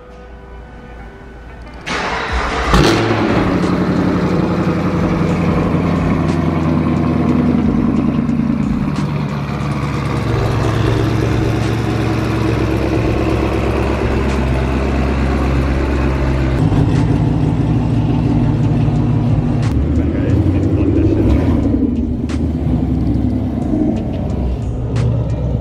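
A Chevy Camaro engine starts up and runs loud and close, a deep steady rumble with a rough idle that shifts level partway through, with no talking over it.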